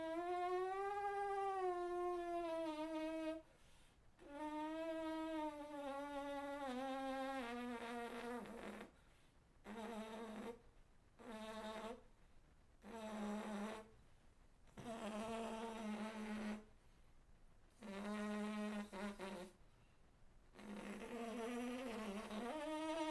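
A trumpet player buzzes lips during a warm-up, producing a series of sustained, pitched buzzing tones, some long and some short, separated by brief pauses for breath.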